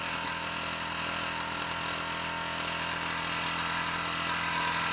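A Latimer L4 stationary engine runs steadily on a non-slip mat, a loud, close, continuous mechanical hum and chug with no change in pace.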